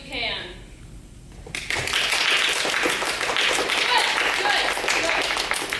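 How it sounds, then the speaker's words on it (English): Audience in a school play courtroom scene applauds loudly after a quieter opening moment, dense clapping building and holding steady, with some voices mixed in. "Please applaud as loud as you can."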